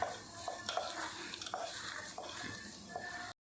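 Ground toor dal being mixed by hand with green chilli, ginger, curry leaves, coriander, grated coconut, salt and asafoetida, soft repeated squishing and rubbing with light taps against the bowl, close and quiet.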